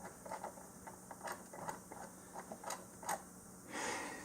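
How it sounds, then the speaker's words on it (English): A screw is driven by hand into the metal track of a wall stud, producing a quiet, close series of irregular ratcheting clicks and small metallic ticks, ending in a brief scraping rustle. "you're going to start screwing it in and you're secure"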